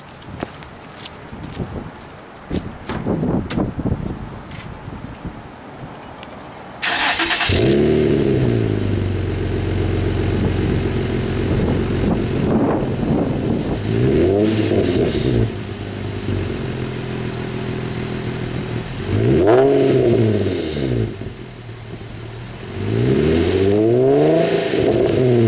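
Infiniti G35 coupe with a Nismo catback exhaust and resonated test pipes, warm engine: a few faint clicks, then the engine fires at about seven seconds into a steady loud idle, with repeated rising revs and drops near 12, 15, 20 and 23 seconds.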